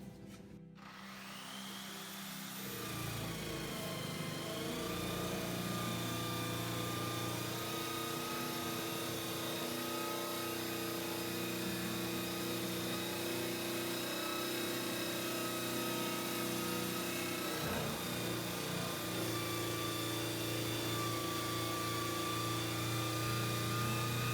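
A rotary stripping disc grinds rust and paint off metal garden tools, a loud sustained whirring drone with a steady pitch that holds for over twenty seconds after spinning up, with a brief dip in the middle.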